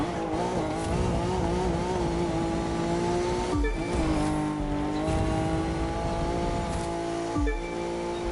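A 350C Roadster street race car in The Crew 2 racing game revs hard and loud, its engine pitch climbing steadily through gears with brief drops at each shift and some tire noise.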